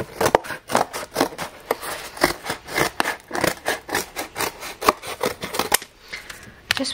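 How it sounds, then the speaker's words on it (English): Scissors cutting a circle out of recycled cardboard: a steady run of crisp, rhythmic snips and scraping blade strokes, close and loud, continuing for several seconds with no voices. "I'm just going to take my scissor and cut it out my circle"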